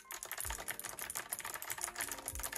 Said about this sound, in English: I love this keyboard for the aesthetic design and the clicky keys